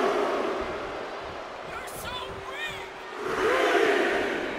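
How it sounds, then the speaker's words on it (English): A crowd in the WWE 2K24 wrestling video game roars and cheers steadily, swelling louder toward the end, with a commentator talking over it. "And Carl Anderson is getting the crowd going."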